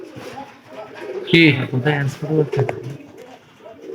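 Pigeons coo softly at a grandmother's pigeon loft, including a young squab, with low rolling calls close by under a person talking.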